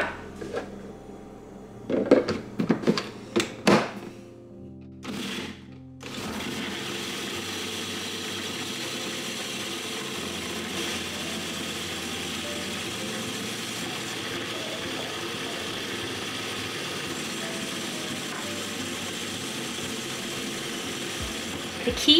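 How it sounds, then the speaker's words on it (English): Blender whirring steadily as it blends starch-solution pancake batter, starting after a few close kitchen clatters and knocks, then a continuous even motor drone holding for the rest of the stretch. "And I'm gonna blend it up."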